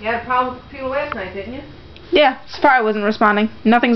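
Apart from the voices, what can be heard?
None of the usual background noises is heard.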